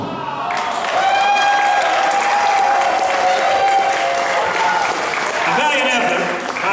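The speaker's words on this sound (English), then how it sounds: "A round of applause, please." An audience at a live bartending competition stage show at a convention breaks into loud, sustained applause and cheering, with voices mixed into the crowd noise.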